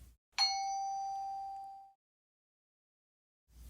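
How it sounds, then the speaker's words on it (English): A single bright bell strike starts a lesson, a clear ding that rings out and fades over about a second and a half, with near silence around it. "when the bell rings,"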